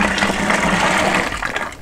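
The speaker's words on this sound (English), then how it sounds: "So in goes another batch of boiling water." Boiling water pours onto a sugar syrup for brewing a hazy IPA, a steady close splashing gush that fills most of the moment before tapering off slightly at the end.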